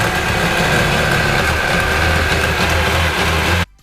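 A Sea-Doo 787 jet ski engine fitted with a new starter runs with a loud, steady, buzzing roar for several seconds, then cuts off abruptly just before the end.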